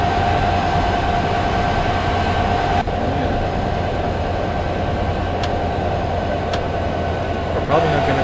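An Amtrak Surfliner commuter train in the Open Rails simulator rumbles along steadily with a constant low roar and a faint high whine, punctuated by a few brief clicks from the track.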